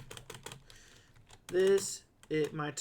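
Quick keyboard clicks on a computer, a short burst of close, light taps, followed by a voice speaking.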